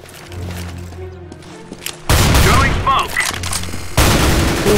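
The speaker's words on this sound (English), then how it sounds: "Watch me throw that flashbang." A flashbang grenade goes off in Counter-Strike: Global Offensive, a sudden loud blast that cuts through quieter game sounds and gives way to a sustained noisy roar, with a second burst near the end.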